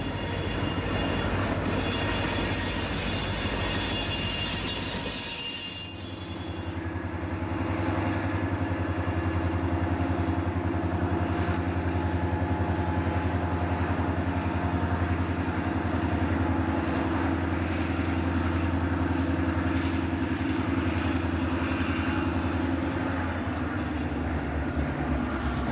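Freight locomotives at work in the Durand rail yard, one in Genesee and Wyoming orange, idling with a steady loud low rumble and drone throughout, continuous close engine noise with rail squeal and clatter mixed in.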